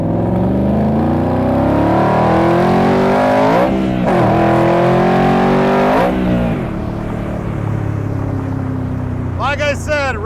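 Loud 580-horsepower engine of a 1965 Shelby Cobra Backdraft revving hard, rising and falling through several sweeping pulls, with a sharp high whine near the end.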